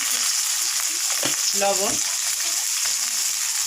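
Ginger and cumin paste with chili powder and turmeric sizzles steadily in a pan while being stirred for pumpkin muitha, a close, even frying hiss with a brief spoken word over it.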